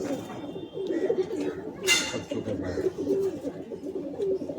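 Soft, repeated coos of female pigeons close by in a pigeon loft, murmuring in a low rolling rhythm, with a brief rustle or flutter midway.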